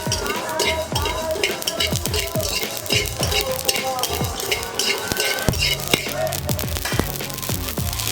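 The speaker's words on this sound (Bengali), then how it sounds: "এই সরিষাগুলোকে এবার শুকনো খোলায় ভেজে নেব।" Black mustard seeds dry-roasting in a hot dry pan, with dense irregular crackling and scraping, sharp clatter and rattling bursts packed close together throughout.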